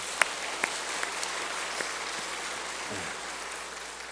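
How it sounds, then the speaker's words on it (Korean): Church congregation clapping in praise during a Korean worship service, a soft, even wash of applause with a few sharper claps standing out near the start. "우리 하나님께 영광에 돌려 박수 한번 돌려버립시다"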